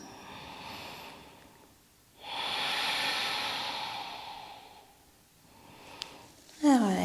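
Slow, deep breaths during a gentle mobility routine for beginners and seniors, two long audible exhales with soft hiss, close and fairly quiet, ending with a brief sniff-like sound.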